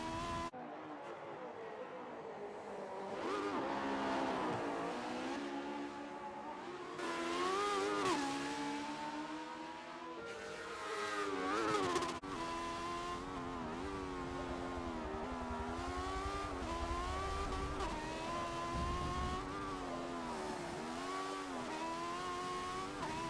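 Formula One cars from 1976, a Ferrari and a McLaren, rev and corner with tyre slippage, engines rising and falling in pitch as they pass at moderate distance, with occasional brief squeals.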